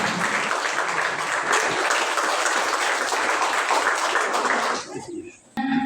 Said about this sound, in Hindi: एक बार जोरदार तालियों के साथ निकेता का स्वागत करें।